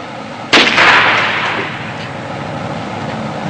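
A single loud cannon blast booms out sharply from a cannon, then its rumbling echo slowly fades over the following seconds.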